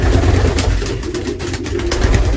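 Racing pigeons coo softly and repeatedly while being fed peanuts, their low throaty calls close by over a steady rustling background.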